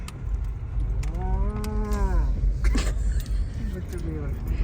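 A person imitates a cow with a drawn-out moo in a field of cattle in Victor, Colorado, followed by voices talking and a low rumble of outdoor background.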